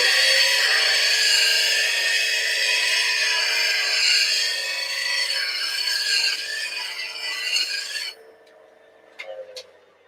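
Woodturning tool being sharpened, a 1/4 inch ball gouge held to a grinder, giving a steady loud bright grinding rasp for about eight seconds that then stops, followed by a few faint clicks.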